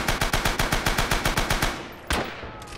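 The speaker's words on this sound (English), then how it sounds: "Not as long as I'm on this machine gun" Rapid machine-gun bursts in the video game Rising Storm, a fast evenly spaced chain of loud shots lasting about two seconds, then a single heavier blast that trails off.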